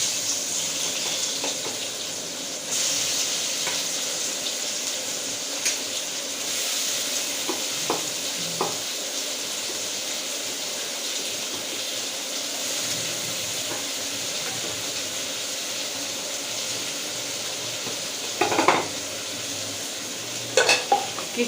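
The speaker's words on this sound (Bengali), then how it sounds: "এবারে আমি ওই তেলের মধ্যে পেঁয়াজ" Onions frying in hot oil for egg korma, a continuous hiss and sizzle with scraping stirs and a few clanks of a utensil against the pan near the end, no voices.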